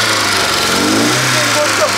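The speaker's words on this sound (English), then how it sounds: "Car start, guys. Yo, what a relief. And the engine sound real good." A Volvo car engine runs loud and close just after starting, settling into a steady rough hum, with people talking over it.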